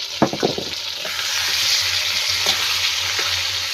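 Ginger-garlic paste hits hot oil with fried potatoes and onions, giving a steady bright sizzle and crackle. A few sharp spatula scrapes and stirs sound early on, and the frying stays close and even throughout.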